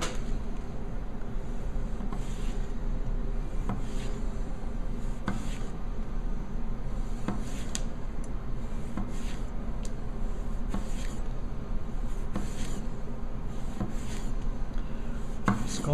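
A Zhen Premium C6 9.5-inch chef knife slicing through a thick-skinned lemon, close and steady, with a run of crisp cutting strokes and soft scrapes against a board over a constant background hum.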